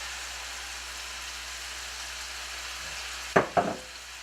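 Spiced ingredients frying in a pan give off a quiet steady sizzle, then near the end two sharp scraping stirs cut through.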